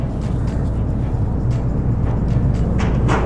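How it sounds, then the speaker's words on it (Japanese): A car rolls aboard a ferry at a ship's stern, its low engine rumble steady and close amid the ship's machinery hum and occasional clanks, with no talking. "車が吸い込まれていく。"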